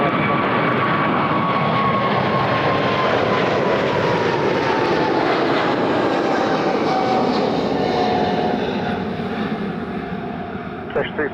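A large jet at Toronto Pearson airport roars loud and steady for the whole span, its broad rumble carrying a slowly falling tonal whine as it passes and fades slightly at the end.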